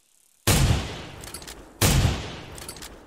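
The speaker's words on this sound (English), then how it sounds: "shoot off some gunshots" Two loud gunshots ring out in theHunter: Primal, each a sharp blast followed by a long decaying echo, about a second and a half apart with no talk.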